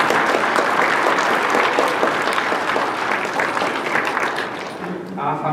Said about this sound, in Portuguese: vamos dar uma salva de palmas, então.